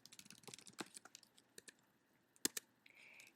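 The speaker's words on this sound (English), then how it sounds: "you would just type in your name and then the email address that you would want it sent to" Quiet, close computer keyboard typing comes as a patter of irregular clicks, with a few sharper, louder keystrokes near the end and no voices.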